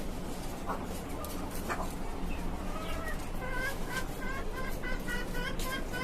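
Desi chickens and a rooster kept in a rooftop poultry farm cluck and crow in a steady busy chorus, with scattered short calls rising over continuous background noise.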